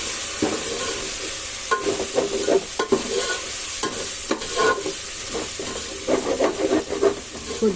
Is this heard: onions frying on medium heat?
yes